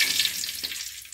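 Curry leaves hit hot oil in a pan already holding mustard seeds and crackle in a bright, close hiss that holds steady and eases slightly toward the end.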